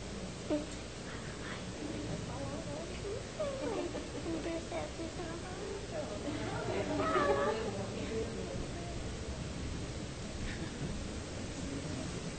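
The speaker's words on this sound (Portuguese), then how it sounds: "Fala, gatinho." A cat meows a few times amid a noisy outdoor gathering with people talking, the calls mid-loud and partly buried under the chatter and background hiss.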